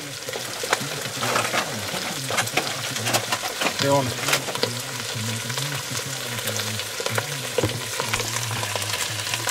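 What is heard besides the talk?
food sizzling while frying in a pan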